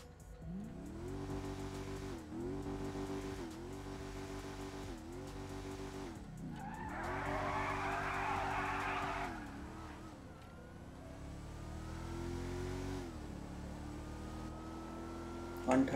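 In GTA 5, a modded Mercedes-Benz AMG C63 S engine revs and climbs through gears with repeated pitch rises and shift drops, plus a brief tyre screech midway, steady and fairly loud with no voices.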